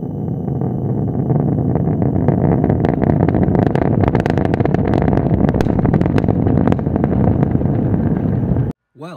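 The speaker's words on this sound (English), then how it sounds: "why rocket engines make this noise." A loud, roaring rocket engine crackles and pops continuously for several seconds before stopping abruptly.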